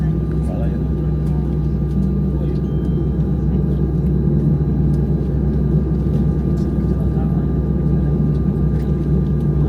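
A Lion Air jet taxis after landing at Sultan Mahmud Badaruddin II International Airport in Palembang, heard from inside the cabin as a steady low engine rumble and drone, with a voice talking over it.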